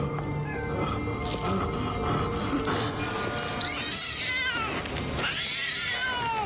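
A cat meows and yowls several times over a quiet background murmur, its cries drawn out and wavering, growing louder toward the end.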